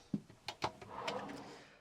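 A large drawer beneath the oven in an Auto-Sleepers Warwick Duo motorhome slides open with a few close wooden knocks and a short rolling rumble, with no one speaking.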